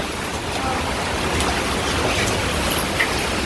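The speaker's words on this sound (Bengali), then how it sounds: "আর আজকে বৃষ্টির কি বৃষ্টি" Heavy rain falls in a village during cooking, a dense, even hiss of drops lasting throughout at steady loudness with no one talking.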